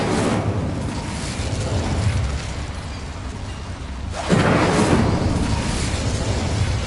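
A fire spell cast in Hogwarts Legacy inside a small mine: a steady broadband rush of game ambience, then a sudden louder whooshing burst of flame about two-thirds of the way through that holds on to the end.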